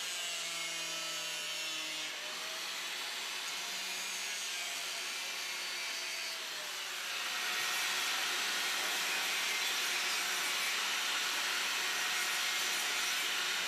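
Angle grinder tapering the end of a pipe, a loud continuous abrasive whine and grinding hiss that shifts and grows harsher partway through as the disc bites into the material.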